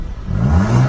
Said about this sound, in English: I want her to rev it a couple times so you guys could hear it.